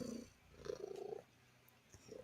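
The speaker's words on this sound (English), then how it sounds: "I hear that cat purr is healing," A pet cat purrs softly and up close in a couple of rumbling breaths, quiet gaps between them, with no voices.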